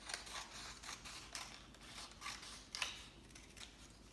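Scissors snip through strips of paper in quick, quiet, repeated cuts, close up, with no talk.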